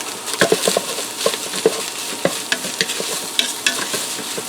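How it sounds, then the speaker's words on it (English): Seasoning being stirred into food in a pressure cooker set to saute, with repeated close scraping strokes of a spoon over a soft sizzle, irregular in rhythm and fairly loud. "Give that a stir."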